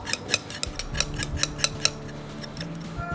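Knife skinning a piece of ginger root, a series of short, crisp scraping strokes at an uneven rhythm, close and fairly quiet over a low background hum, no talking.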